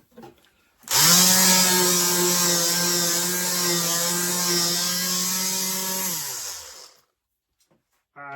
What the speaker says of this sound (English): Just sanding because I need to keep this face of it as tidy as possible.